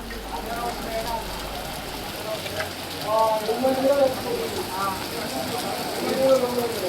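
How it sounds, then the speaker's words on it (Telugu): Heavy rain with gusty winds falls across Sangareddy in Telangana. A steady, dense hiss of rain on surfaces continues beneath a voice talking throughout. "సంగారెడ్డి మండలాల్లో ఈదురుగాలులతో భారీ వర్షం కురుస్తోంది."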